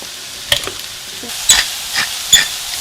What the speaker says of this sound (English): I've got some water boiling in here.